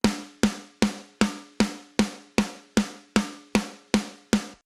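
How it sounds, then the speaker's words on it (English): A snare drum sample built from two blended Drumforge snares, mixed for pop punk, hits twelve times in a steady, even rhythm, each a loud, crisp crack with a short ringing tail and nothing else underneath. "Then we've got this snare 1123, a blend of 2 snares from Drumforge. By themselves, sounds like this."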